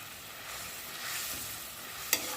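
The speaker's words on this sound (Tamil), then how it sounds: "இப்போ நல்லா கொதிச்சிடுச்சு கோவக்காய் போட்டுடலாம்" Ivy gourd dropped into a boiling Chettinad curry gives a steady soft sizzle and bubbling hiss, with one brief clink near the end.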